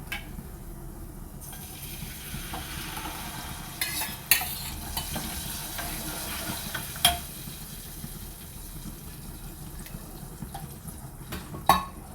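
Spices for a yogurt tempering sizzle in hot oil in a pan, with a continuous fizzing hiss. Stirring and a few sharp utensil clinks break through at intervals.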